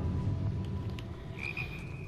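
A frog croaks in a jungle area of the adventure game Uncharted 4, a drawn-out, fairly faint call over a steady low ambient rumble, without any voices.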